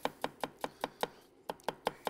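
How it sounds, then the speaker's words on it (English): A knife thinly slices vegetables to be melted in olive oil in a copper forged pan: ten or so crisp, evenly spaced cutting-board taps, close and fairly quiet, with a brief pause midway and no talk. "we'll slice one, we'll slice the other. And just thinly slice them down."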